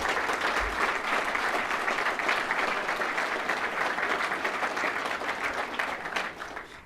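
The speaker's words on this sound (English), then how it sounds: "How about a big applause for the family," Audience at a recruit class graduation ceremony applauds the recruits' families, friends and loved ones with sustained, dense clapping from a large crowd, steady throughout and easing slightly at the end.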